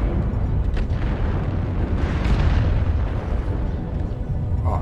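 Weapons fire and explosions in the mech combat game MechWarrior Online, from a Hunchback IIC-A laser build: dense, continuous booming blasts and bursts that overlap loudly throughout with no pauses.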